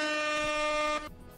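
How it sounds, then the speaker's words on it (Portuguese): A radio-show air horn blares one loud, steady, harmonic-rich blast for about a second, then cuts off abruptly and leaves a faint tail. "Toca a buzina aí, Naka!"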